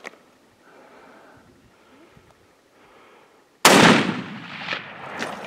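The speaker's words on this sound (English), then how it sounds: "Shoot him again, quickly" A single loud, close rifle shot cracks out during a gemsbok hunt in South Africa, following quiet rustling and leaving a sharp report that rolls away over open ground.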